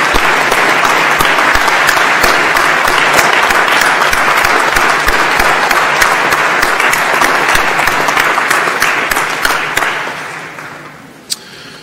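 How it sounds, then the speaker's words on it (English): Loud, sustained applause from a large commencement audience honoring college faculty and staff, a dense wash of clapping that holds steady for about ten seconds before tapering off near the end. "I hope that everybody will join me in giving a round of applause to all of our faculty and staff members of SUNY Poly"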